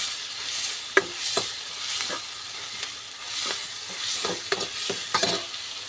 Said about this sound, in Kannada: ಸ್ವಲ್ಪ ಫ್ರೈ ಮಾಡ್ಕೊತಾ ಇದ್ದೀನಿ ಚೆನ್ನಾಗಿ ಕೆಂಪಾಗಬೇಕು ಈರುಳ್ಳಿ ಆ ರೀತಿ ಫ್ರೈ ಮಾಡ್ಕೋಬೇಕು